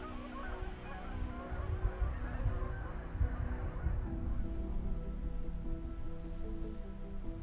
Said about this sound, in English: Some geese still migrate, but some stay put, making the Canada goose an incredibly adaptable bird.